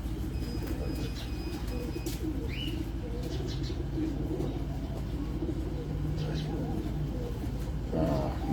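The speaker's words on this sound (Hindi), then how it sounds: "ये छत वाले कबूतर हैं जी" Rooftop pigeons cooing and chirping among a steady outdoor din, with a brief flutter of wings, soft and somewhat distant.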